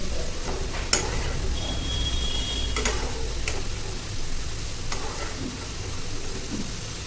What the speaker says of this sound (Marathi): आपल्या शंकरपाळ्या छान सोनेरी रंगावरती छान तळून झालेले आहेत